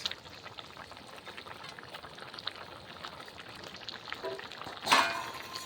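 Small mourola fish dropped into a hot pan and frying, a low steady sizzle with faint stirring and a sharper burst of crackling near the end, no one speaking.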